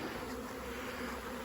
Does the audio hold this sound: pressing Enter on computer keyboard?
no